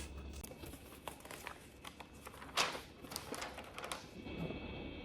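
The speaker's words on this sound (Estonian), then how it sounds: "See on mingi paberi kikas." A crumpled scrap of paper, a receipt-like slip, is handled, giving irregular crinkling and rustling bursts with one louder crackle midway, close and fairly quiet, with no voices.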